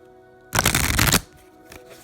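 A deck of tarot cards is riffled in one dense, crisp burst lasting under a second, close up, followed by a soft tap.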